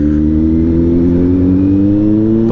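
A heavy motorcycle, ridden in rider mode, holds a loud, steady engine drone close by, its harmonics rising slightly as it revs through the whole stretch with no talk over it.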